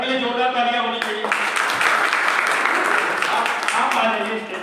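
Strong applause from an audience at a product seminar, starting after a voice speaks over a tonal background and then continuing as a dense wash with talk and music-like tones returning near the end.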